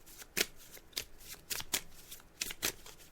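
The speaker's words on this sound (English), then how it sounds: "I'm just shuffling the cards now" A deck of cards is shuffled during a psychic card reading on a radio show, giving several quick crisp riffles and snaps in irregular bursts, close and fairly quiet, with no voice.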